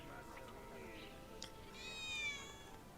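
Cat meowing in Final Fantasy VII Remake, a faint, quavering meow rising near the end over a quiet game ambience with soft background sounds.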